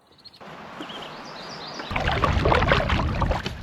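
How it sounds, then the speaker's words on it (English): A canoe paddled across a lake at dusk: a light watery swish, then steadier splashing and trickling strokes close by, with no voices. "we're going to canoe around on this lake"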